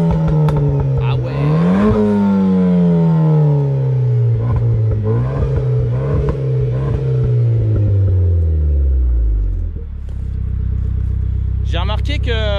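A stage 2 tuned Renault Sport 1.6 litre engine, over 250 hp, revs loudly and repeatedly, its intake and exhaust note rising and falling in sweeping pulls before dropping to a rumbling idle, with people talking over it.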